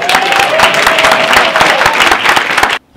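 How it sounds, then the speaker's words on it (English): A crowd claps hands together in praise to God, a dense, loud wash of applause that runs steadily for nearly three seconds before cutting off abruptly. "We're giving God a hand clap for praise."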